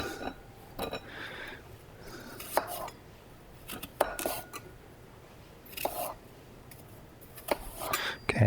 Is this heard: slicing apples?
yes